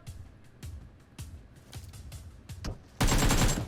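Gunfire in an online shooter video game: a string of sharp, close single shots spaced roughly half a second apart, then a loud sustained burst of rapid fire at the end.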